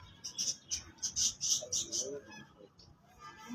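Pigeons kept by a fancier in Rawalpindi, with a run of sharp, high chirping calls in quick bursts, fairly close, and a faint murmur underneath.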